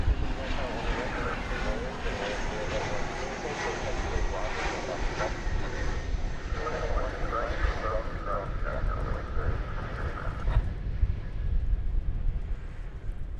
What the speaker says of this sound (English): I've never seen a parade of military aircraft bisect the airport while I've been here.